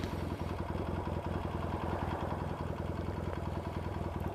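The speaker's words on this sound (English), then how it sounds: "Funny knocking when it's under load." A Yamaha XS650 motorcycle engine on a chopper ride runs under load with a reported knock, giving a steady, close, loud rumble with a rapid pulsing beat throughout and no talking.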